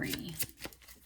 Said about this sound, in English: Let me shuffle this 3 times.